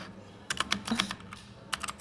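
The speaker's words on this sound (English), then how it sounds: "I love the sound of the keyboard." Computer keyboard typing at a Classic Tetris tournament, a quick burst of crisp clicking keystrokes after a brief quiet moment, followed by a pause and a second short cluster of presses, close and clear against soft background hum.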